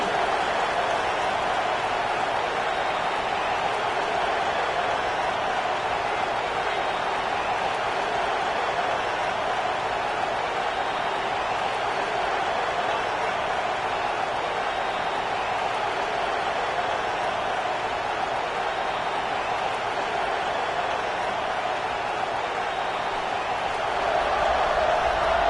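A football stadium crowd at the Dukes versus NC State kickoff, a steady broad roar of many distant voices holding at an even level throughout, swelling slightly near the end.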